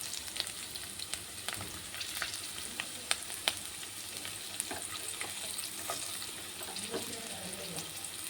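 Onions, green chillies and capsicum frying in a pan, a steady low sizzle broken by scattered light stirring clicks and taps, with no voices.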